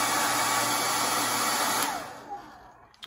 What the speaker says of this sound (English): all you need is just a regular hair dryer